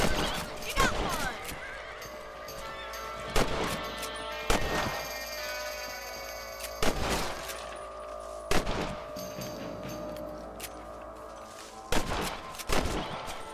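Sharp, loud rifle shots fired at rabbits in Red Dead Redemption, about half a dozen single cracks spaced a few seconds apart over a steady outdoor backdrop with a horse nearby.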